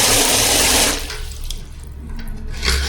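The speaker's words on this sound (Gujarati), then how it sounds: "આ ગ્રેવલ્સ છે એની ડોલમાં વધારે પાણી ભરી" Water from a tap gushes loudly into a bucket of aquarium gravel during fish bowl cleaning, a steady rushing pour that drops in level partway through and then swells again near the end.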